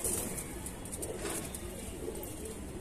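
Pigeons cooing softly under a constant hiss of background noise, a low murmuring call repeating faintly through the short stretch.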